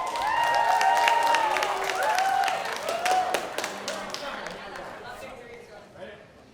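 Audience applause and cheering at a Kahuku High and Intermediate school spring concert, steady clapping that builds early and slowly fades, with ringing tones and voices mixed in.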